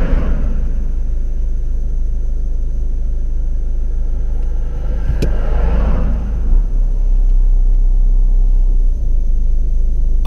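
A car reversing during a driving test manoeuvre, pulled up on the right of the road: a steady low engine rumble with road noise, continuous and fairly loud, with no talk.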